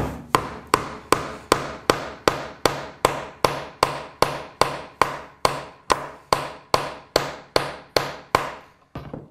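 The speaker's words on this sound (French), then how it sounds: "Et je plante les clous au fur et à mesure dans le chêne." Hammer driving cut nails into a thick oak board, about twenty loud, evenly spaced close strikes in a steady rhythm, each ringing briefly, with no talking.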